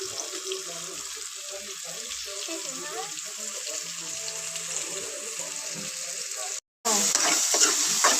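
A pan of whole spices being stirred: bay leaf, star anise, cinnamon, clove, cardamom and salt. A steady sizzle runs throughout with scraping stir strokes, a brief silent break, then louder frying.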